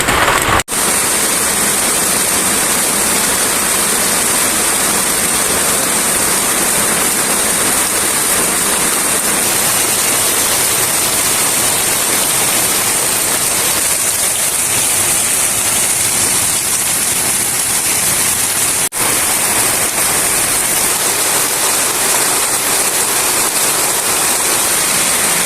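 Heavy rain pours outside in a steady, dense hiss that stays loud and unbroken throughout, with no voices over it.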